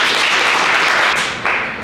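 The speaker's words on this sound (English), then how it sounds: "let's give a round of applause to Mr." A conference audience at a security summit claps after a presentation, a dense, loud burst of applause that holds steady and then tapers off.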